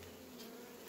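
Bees hum close by in a dense, steady drone while someone works at an open hive, with a continuous buzzing swarm and no voices.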